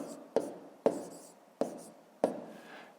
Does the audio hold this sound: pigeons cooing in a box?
no